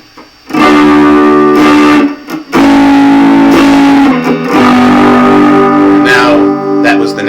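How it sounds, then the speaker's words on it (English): A budget Strat-style electric guitar played through a distortion effect rings out loudly in sustained, heavily driven chords and notes, with short pauses between strums and no talking. "And now I'll put on some distortion."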